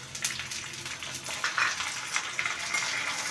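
Green peas frying with softened onion in a pan for mutter paneer biryani, a moderate continuous sizzle with occasional stirring scrapes.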